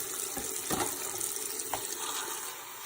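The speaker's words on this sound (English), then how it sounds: "I'm gonna fill it up with some hot water." Hot tap water runs steadily into a razor-cleaning machine, a continuous broadband rush with a few brief clunks and splashes, fairly close and with no talking.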